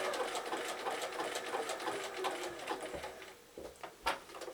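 A domestic sewing machine runs a steady zig-zag stitch on fabric appliqué for birthday bunting, humming with a rapid, even needle rhythm that pauses briefly near the end for a corner turn, close and fairly quiet.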